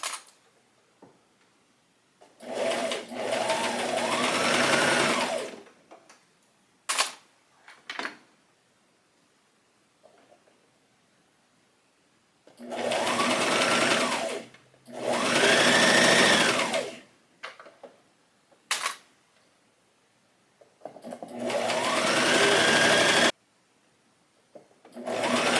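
A sewing machine runs a long basting stitch in several separate bursts of a few seconds each, loud and close, with short quiet gaps and small clicks between runs.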